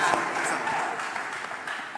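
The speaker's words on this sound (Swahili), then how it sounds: "Tukaribishe gavana vizuri na shangwe na vigelegele" Audience applause and cheering welcome the governor at a Madaraka Day summit at Tom Mboya University, a short steady burst of crowd noise.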